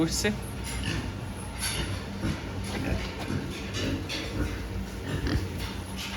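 Weaned piglets around 30 kg grunt and snuffle in their pens at a farm, low oinks repeating close by over a constant ventilation hum.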